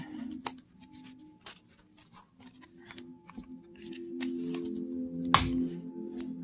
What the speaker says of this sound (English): I'm going to shuffle these guys.